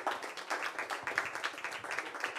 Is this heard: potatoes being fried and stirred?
no